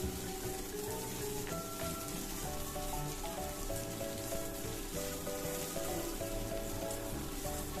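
Chopped small shallots sizzle steadily as they sauté in hot oil for a bitter gourd stir-fry, a continuous, moderately quiet crackling hiss with no talking.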